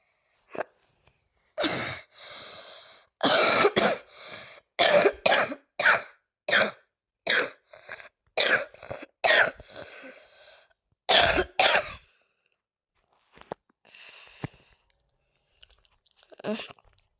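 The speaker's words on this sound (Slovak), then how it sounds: "Aspoň vidíte, jak kašlem." A person coughs repeatedly, a long series of harsh, close coughs in quick bursts, then a few fainter ones after a pause.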